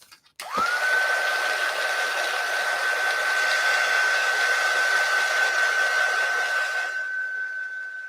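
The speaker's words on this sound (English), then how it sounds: "I'm going to do a real quick heat set with my heat tool just to make sure that ink is completely dry before we color it." A handheld heat tool blows steadily for about seven seconds to heat-set stamped ink on a crafting card. It gives a loud, constant hot-air roar with a thin high whine, starting abruptly and fading slightly near the end.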